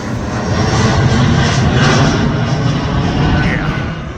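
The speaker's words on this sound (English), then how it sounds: "Hold on, Delta Airlines." A Delta Airlines airliner passes overhead, its engine roar loud, broad and steady throughout, swelling slightly in the middle and easing at the end, with no talk over it.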